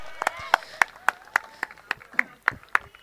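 Rhythmic clapping from the crowd at a cricket tournament prize distribution ceremony in Mohopada, with sharp, evenly spaced claps through the whole stretch over a faint tonal background.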